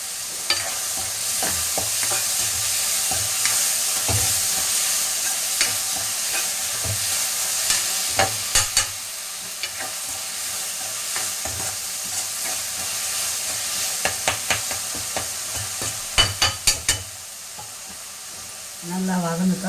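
Tomatoes and onions sizzle steadily in a hot pan while being stirred, with repeated sharp clinks and scrapes of the utensil against the pan over the constant frying hiss.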